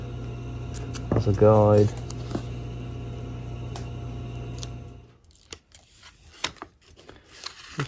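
Strip of tape pulled and pressed on as a guide on a part of a 1979 Honda XR500 under restoration: a brief, close crackling rip over a low hum, with someone speaking briefly.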